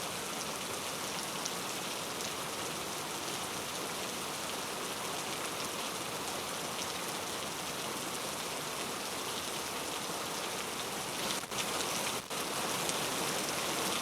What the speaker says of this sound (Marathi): मुंबई महानगर परिसरात काल रात्री जोरदार पाऊस बरसला।